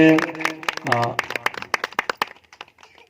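Audience applause welcoming a BJD chairperson at a Christmas celebration in a church in Chandahandi: a voice speaks briefly first, then scattered, sharp hand claps ring out for a couple of seconds and taper off.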